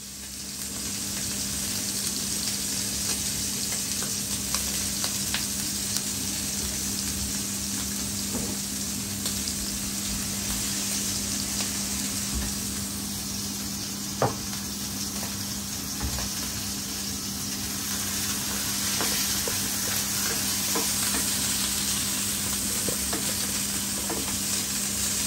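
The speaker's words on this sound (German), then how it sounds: "Ordentlich anbraten das Ganze, erst die eine, dann die andere Seite, damit sich schön die Röstaromen bilden" US beef hip steak searing in a hot pan, a loud, steady close-up sizzle that continues throughout with occasional crackles and a faint hum underneath.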